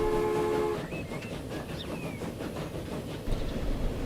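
A train ride in the video game Transport Fever: a steady, rumbling rail roar with brief horn tones at the start and faint whistling glides, ending with a louder clatter.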